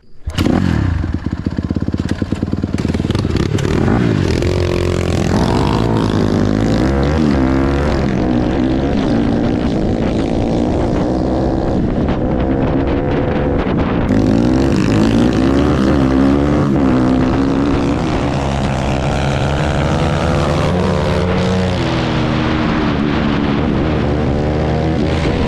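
A Honda CRF150R dirt bike rides along a trail, its engine loud and close throughout with steady revving, rising and falling pitch as the rider shifts and throttles, and occasional clatter over rough ground.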